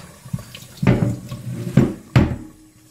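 Tap water runs and splashes into a sink while a carp is cleaned and filleted, with several sharp knocks and wet thuds against the steady flow. No one speaks.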